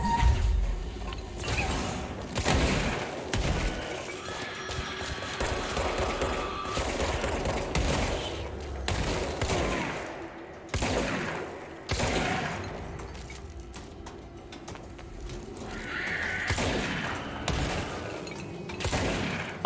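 Shotgun blasts in the video game Control, sharp bursts repeating irregularly through a dense layer of combat noise, mechanical clatter and creaking effects, loud and close throughout.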